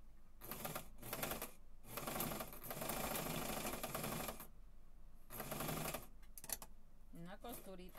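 A sewing machine stitches a short seam on a fabric hair tie in several whirring bursts of rapid mechanical clatter close by, separated by brief pauses, with quiet speech near the end.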